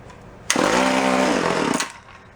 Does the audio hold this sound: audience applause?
no